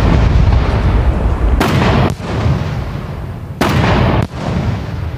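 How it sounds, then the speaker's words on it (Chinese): A fireworks salvo launched in a town in the survival video game SCUM booms like mortar fire: two sharp, very loud blasts about two seconds apart, each followed by a dense crackling rumble, with no voices. "这烟花声音大的简直就跟一个迫击炮一样"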